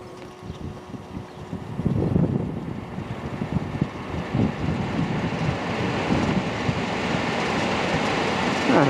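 A swamp cooler powered through an inverter and mounted on a forklift whose engine is off runs with a steady, close whooshing fan-and-air roar that builds after the first couple of seconds and then holds, with some wind buffeting on the microphone.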